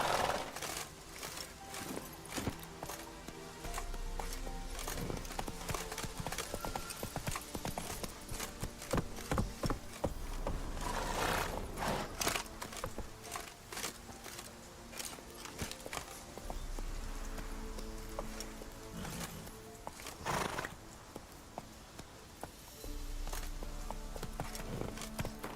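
Horse hooves clip-clopping steadily as the horse Roach is ridden in The Witcher 3 video game, a continuous rhythmic gait with game ambience underneath, moderately loud and unbroken.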